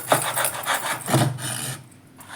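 A knife cuts a raw jackfruit in two, producing close, rhythmic rasping strokes as the blade saws through the tough, fibrous fruit, several scraping pulses before the sound fades.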